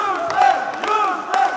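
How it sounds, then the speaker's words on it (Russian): Sports fans in an arena cheering on their teams: a sustained roar of crowd voices with whoops and chanting swells, loud and fairly close, with a few brief peaks. "Игроков активно поддерживают болельщики"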